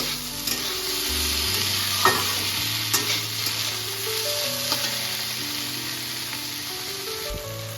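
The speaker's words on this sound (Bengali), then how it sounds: "এটাকে আমি ভালো করে এখন ভেজে নেব" Shrimp paste frying in a pan, a steady close sizzle running throughout with intermittent scraping and stirring clicks, no voices.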